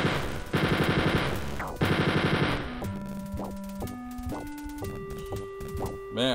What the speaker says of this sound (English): So he basically fires these injection shots at you.